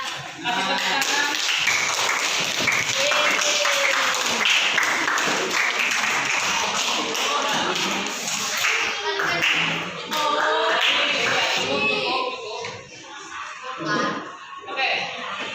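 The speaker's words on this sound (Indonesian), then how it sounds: "Kasih tepuk tangan." A classroom of children applauds together, a dense burst of hand claps lasting several seconds with some voices mixed in, then thinning out toward the end.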